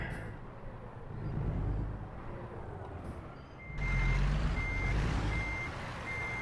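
Steady electronic reversing beeps repeat evenly as a big rig backs a trailer in American Truck Simulator, with a low diesel engine rumble underneath and no talking.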